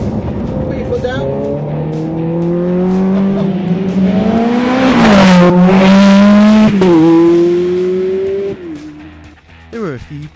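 Ferrari 430 Scuderia V8 dropping a gear under full throttle, a loud rising engine howl that climbs through the revs, steps at a gearshift and keeps pulling, with a voice over it.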